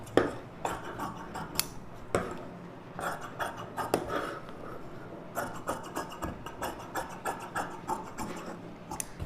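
Scissors cutting lining fabric for a U-neck blouse, a quiet, close series of repeated snips and scrapes in an irregular rhythm, with no talking.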